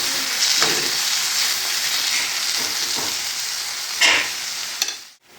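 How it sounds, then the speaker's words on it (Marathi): Onion sautés in a worn kadai, a continuous close sizzle broken by several spatula scrapes and knocks, fading out at the end; no one speaks. "हा कांदा चांगला लालसर होईपर्यंत परतवून घेत आहे"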